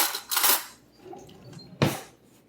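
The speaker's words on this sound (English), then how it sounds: "let me get a spoon here and we'll taste this" Spoon clinking against a soup pot of Mexican street corn soup, a couple of bright metallic knocks and scrapes separated by quiet, close up, with no talk.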